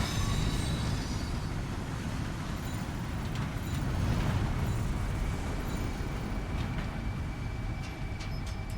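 A player-built monorail in the video game Death Stranding 2 runs along its track, a continuous loud rumbling drone with a faint high whine above it, steady throughout with no talk.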